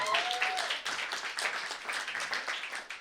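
Crowd clapping at a live stand-up comedy show, a quick patter of many hands with a faint cheer at the start, sustained for about three seconds at moderate volume without speech.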